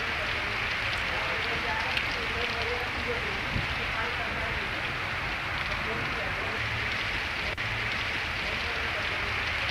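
Steady September rain falls over crop fields in a village, a dense and even hiss that continues without a break.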